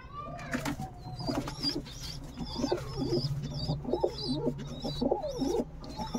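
Jira pigeons coo in a shed, repeated soft throaty rolling calls from several birds close by, with rustling and a constant low hum underneath.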